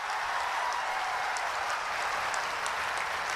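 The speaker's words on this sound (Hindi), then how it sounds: "एगो गड़गड़ा के ताली होके के चाहिए" A dense, steady wave of applause from a large crowd at a stadium inauguration in Gorakhpur, India, continuous and even throughout, with no voices standing out.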